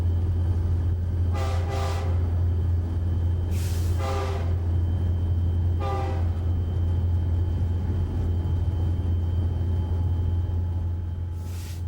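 A BNSF freight train rolling on the Cuba Sub in Ozark country, seen from the cab: a constant low rumble with three loud horn blasts, two close together and a third a moment later, then steady running noise.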